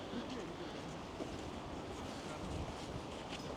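Steady wind rushing outdoors on a cold, snowy day in Moscow, a constant broadband roar near the microphone with slight gusts and no clear voices.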